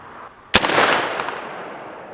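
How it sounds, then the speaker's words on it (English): A single sharp report from a .50 caliber AR-style rifle fired over a chronograph outdoors, a loud crack followed by a long fading echo. "So, first off, the chronograph, we're going to do 3 shots across it."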